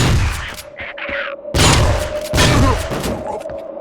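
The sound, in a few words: shotgun fire in Vivisector: Beast Within video game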